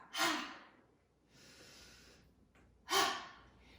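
Two deep, breathy exhales during a slow-flow yoga sequence, close and clear, separated by a quieter, softer breath in.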